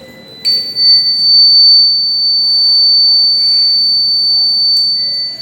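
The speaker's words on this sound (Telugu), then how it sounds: "ఇది చేసే శబ్దాన్ని సౌండ్ డిటెక్టర్ రిసీవ్ చేసుకొని యాంప్లిఫై చేసి బజర్ ద్వారా" A student-made classroom sound detector sounds its buzzer alert: a loud, steady high-pitched electronic tone starts after half a second and holds nearly unbroken to the end, with faint background noise beneath.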